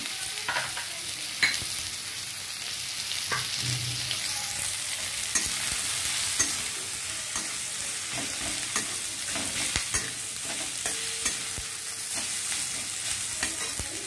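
Onion frying in hot oil in a pan, a steady bright sizzle running throughout with occasional scrapes and clicks of a stirring utensil, close and continuous with no talking.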